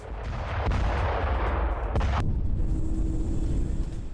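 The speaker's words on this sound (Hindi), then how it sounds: "गाजा पर बमबारी की ये रोज की तस्वीर है।" Bombardment in Gaza rumbles in heavy, continuous explosive booms with sharp blasts, loud and dense at first before the noise drops to a lower, sustained roar.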